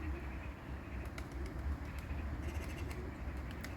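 Pigeons coo and flutter faintly over a low rumbling background as a young pigeon comes down after a long flight, the soft calls recurring through the short stretch.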